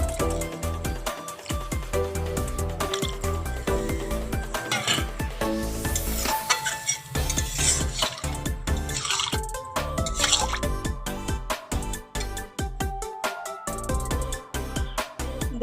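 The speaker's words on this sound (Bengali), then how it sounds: "এবারে জল দিয়ে দিব ঠিক আছে হয়ে গেছে পকানো দেখো আর একটু জল দিব" Water being added to a cooking pot for a Bengali home-style dish, with steady splashing and dripping mixed with metal pot and stirring clatter close up, with no voices.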